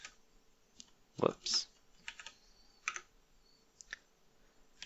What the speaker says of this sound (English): I'm going to type in C,